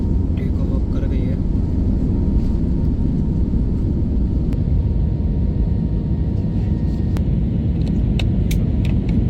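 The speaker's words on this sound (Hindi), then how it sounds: "टेक ऑफ कर गई है।" An Air India airliner on a flight from Hyderabad takes off, with a loud, constant low roar and rumble filling the cabin throughout.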